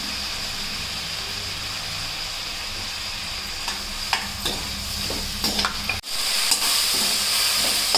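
Mint leaves frying in a pan with tomatoes for egg biryani give a steady close sizzle, broken by a few soft scrapes and taps of stirring and one sharp clatter near the end, with no voices.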